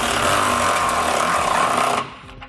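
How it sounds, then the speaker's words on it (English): A power tool with a 3/4 inch or 19mm socket snugs nuts on hitch bolts during a trailer hitch receiver install on a 2013 Chevrolet, heard as a loud, continuous rattling buzz that stops abruptly after two seconds. "we can use a 3/4 inch socket or a 19mm socket to snug up the 2 nuts"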